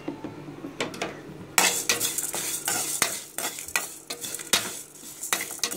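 Dried red chillies fry in oil for a pepper chicken kulambu, giving a steady close sizzle broken by sharp spoon scrapes and clinks against the pan.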